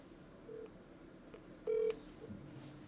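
A telephone keypad sends a few faint touch-tone beeps, one clearly louder and longer than the others, over a quiet low background hiss with no talk.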